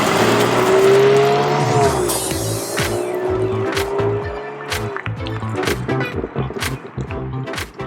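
A BMW M4 Competition sports car engine revs hard and drops, then tires squeal and the engine burbles with sharp pops and crackles, loud and close.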